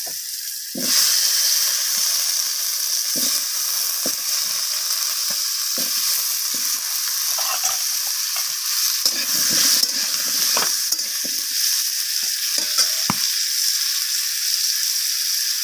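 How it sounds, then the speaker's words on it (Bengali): Cut potatoes fry in mustard oil in a kadai, giving a steady loud hissing sizzle throughout, with occasional scrapes and stirring clatter close by, no voices. "তো এরপর আমি কড়াইয়ের মধ্যে দিয়ে দিলাম কেটে রাখা আলুগুলোকে।"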